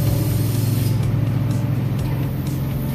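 A spray bottle of car seat cleaner gives a steady hiss of spray over a loud low rumble of engine and background noise, with no talking.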